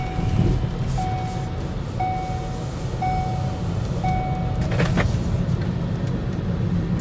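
A 2010 Ford Fusion Hybrid drives along, heard from inside as a steady low road rumble, with a thin electronic chime beeping about once per second for the first few seconds.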